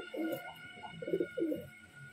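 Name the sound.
pigeon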